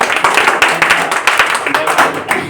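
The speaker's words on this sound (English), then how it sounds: "Clap for him." Scattered hand claps from an English class break out under ongoing chatter, fairly close, with uneven rhythm and no clear unison.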